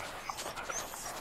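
A dog being trained on a new leash whimpers softly and pants in quick, breathy bursts, fairly quiet and close, with no talking over it.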